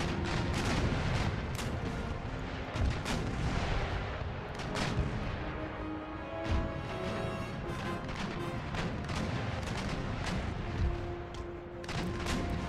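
Warship cannons firing round shot in the Empire: Total War naval battle, repeated booming blasts and crashing impacts at an irregular rhythm over a continuous rumbling battle din.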